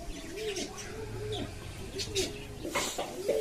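Pet doves perched on wood indoors coo softly and repeatedly, with a few chirps from other birds mixed in, all faint and close.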